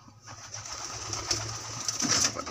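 A blue bar pigeon coos softly, close by, with a few low murmuring calls over faint background hiss.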